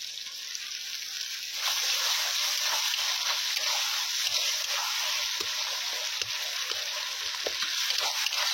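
Onion and tomato frying in a pan with ginger-garlic paste added, a steady close sizzle with stirring scrapes and small clicks throughout, no talking.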